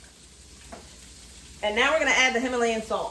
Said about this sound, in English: The pan has heated because I can hear a little sizzle. So I'm going to add in the shrimp and I'm going to salt them.